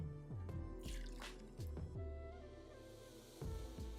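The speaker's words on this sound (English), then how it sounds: "I'm straining the healing water." Fenugreek infusion is strained, with repeated drips and small splashes of water falling into a container, close up, several distinct drops spread irregularly across a few seconds, no voices.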